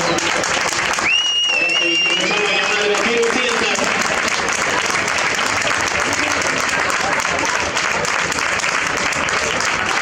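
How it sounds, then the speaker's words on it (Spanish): Loud, sustained applause from a large crowd at the Bilboko Bandera rowing regatta, Eusko Label Liga, fills the whole stretch, with a brief whistle cutting through near the start. "El aplauso para todas ellas también, por favor"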